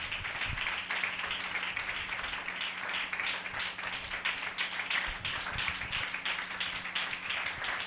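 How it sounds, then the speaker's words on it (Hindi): A church congregation claps together for several seconds, a steady, fairly quiet patter of many hands echoing through the hall. "हम जोरदार तालियों से उनका स्वागत करें।"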